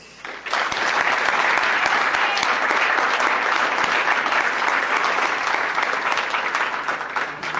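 Audience applause at a lab coat ceremony, a sustained, dense wash of many hands clapping that starts abruptly and holds steady and loud for several seconds without talk.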